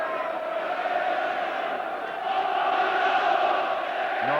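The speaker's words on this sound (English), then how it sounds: "Norwich crowd really doing all they can to lift the side" Norwich City home crowd roaring steadily at a 1993-94 UEFA Cup match against Bayern Munich, a dense sustained stadium din that swells slightly midway, with no commentary over it.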